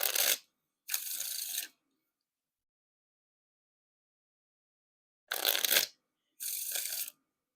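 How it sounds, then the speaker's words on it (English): Bicycle Bionic playing cards are riffle shuffled in two pairs of quick bursts, each a crisp flutter of riffling and bridging, with silence between. "Now time for the riffle shuffle or bridge shuffle."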